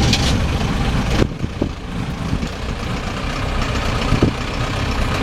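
A Land Rover engine cranks over on a hand throttle and catches straight away, settling into a steady, loud, close diesel-like idle rumble that continues without pause.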